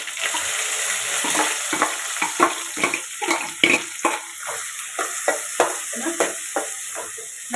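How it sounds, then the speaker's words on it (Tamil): Steady sizzling of chopped onions frying in hot oil for egg curry, with repeated scraping stirs and clinks of a utensil against the pan, close up. "வெங்காயம் நல்லா வதங்கட்டும்"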